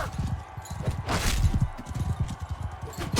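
Horse hooves clip-clop in the video game Mount and Blade Bannerlord, a quick, steady rhythm of close, repeated thuds with no talking.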